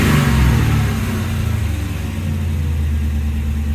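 A Crown Victoria P7B police car with a stainless works exhaust idles with a deep, steady low rumble that swells into a brief rev near the start before settling back, heard close and alone.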